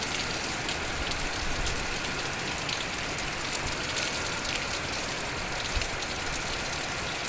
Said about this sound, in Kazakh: шелектеп құйып жатыр.